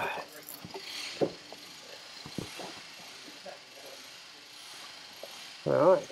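A ratchet wrench driving a bolt into an engine while a new starter motor, injectors and radiator are being installed, heard as scattered clicks and taps with a louder burst of ratcheting at the end, close by, amid light background noise.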